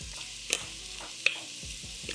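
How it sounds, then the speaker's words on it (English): Beef stew with beef bouillon being stirred in a pot, with a faint simmering sizzle under a couple of sharp spoon clinks against the pot. "And we're just gonna stir this up."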